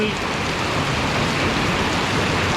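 Steady rain falling at a campsite in Thailand before dawn, a dense, even hiss with a low patter that runs without a break and stays loud throughout.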